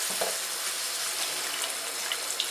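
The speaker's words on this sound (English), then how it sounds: "And just to add a little bit of water into that." Water poured into a thickening sauce in a hot pan sizzles and hisses steadily, a bright continuous frying sound with a running-water quality, close and moderately loud, no voices.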